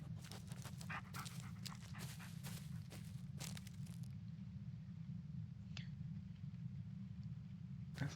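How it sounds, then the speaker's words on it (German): A dog pants faintly and steadily in the Blair Witch video game, a soft rhythmic breathing over a low constant hum, with no talk. "Das ist ein Hund."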